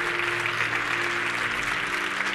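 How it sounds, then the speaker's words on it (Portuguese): A church congregation applauds during a worship service, a dense, steady wash of clapping that holds at even loudness for a couple of seconds, with no speech on top. "Os que creem, aplaudam ao Senhor."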